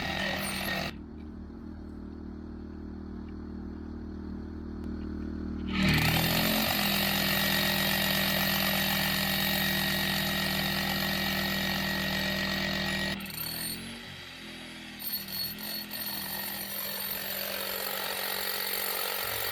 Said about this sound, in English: you can see that it does actually drill pretty fast through this limestone.